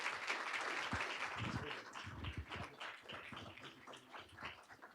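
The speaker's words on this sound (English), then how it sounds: "Round of applause." A room of people at a school board of education meeting clap together in a round of applause, steady and moderately distant, tapering slightly toward the end.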